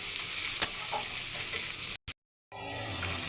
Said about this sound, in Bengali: ভালো করে নাড়িয়ে চালিয়ে নেবেন